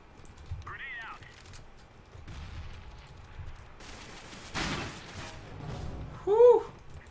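Gunfire in the game CS:GO comes as brief, sharp bursts in the middle of an otherwise quiet round, with faint voices heard before and after the shots.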